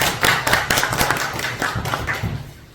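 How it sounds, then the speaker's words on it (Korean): Audience members at a book launch event clap together in a dense burst of close, sharp hand claps that gradually thins and fades. "한 번 더 박수 좀"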